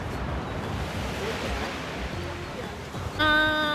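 Sea waves wash and crash against rocks near a coastal lighthouse as a loud, continuous broadband roar with wind noise, ending with a brief tonal sound.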